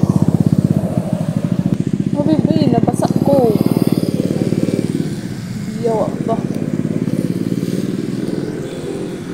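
A motorcycle engine runs steadily with a low rumbling drone throughout while the rider travels in the rain, with a person talking over the engine noise.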